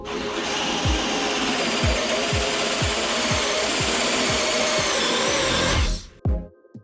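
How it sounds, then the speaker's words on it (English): Steady whining drone of a power drill cutting holes in a boat hull in the dark, with regular thumping knocks about every half second, stopping abruptly near the end. "I was drilling holes in the bottom of our boat in the dark"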